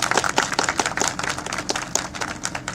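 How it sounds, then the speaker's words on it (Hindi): Audience clapping at a poetry gathering during an election event in Mainpuri, a brisk burst of fairly close, distinct hand claps from a modest crowd, steady and lively throughout. "आप सबकी तालियां एक बार जोरदार बजनी चाहिए।"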